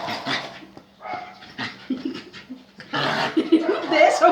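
An excited dog at home gives several short barks and whimpers at close range, with panting between them, while people laugh and talk around it.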